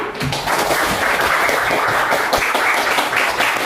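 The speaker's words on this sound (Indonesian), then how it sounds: "kita berikan tepuk tangan yang luar biasa untuk kita semua" A classroom of students claps together at the end of a lesson, dense, loud and continuous applause lasting throughout without pause.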